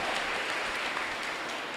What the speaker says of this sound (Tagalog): palakpakan tayo pa ang Ginoo